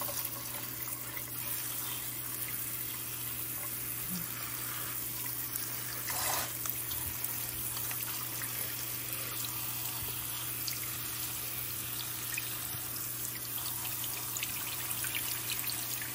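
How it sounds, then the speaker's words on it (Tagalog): Water pours from a tap over salted, sliced bitter melon being rinsed in a sink, a soft, steady running stream with faint splashing, continuous and fairly quiet. "at ating buhusan natin ng tubig"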